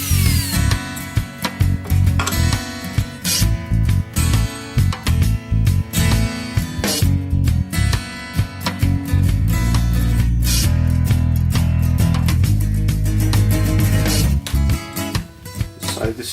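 A wood router with a template follower bit cuts a circular recess for an acetal bushing in a Roubo workbench leg vise, loud and close, whining and chattering in uneven bursts, then settling into a steadier deep roar.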